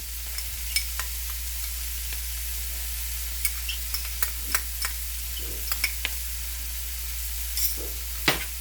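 Mixed vegetables with two spoons of Schezwan sauce sizzling in a pan while being stirred, a steady close frying hiss broken by sharp scraping and clinking spoon strokes at irregular intervals.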